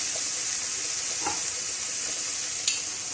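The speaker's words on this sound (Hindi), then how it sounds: "अब वेजिटेबल्स ऐड करेंगे इसके अंदर" Vegetables hit a pan of cooked chicken fajita filling with a loud, even sizzle close by throughout, and a single faint clink near the end.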